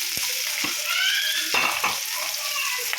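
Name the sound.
onions sautéing in oil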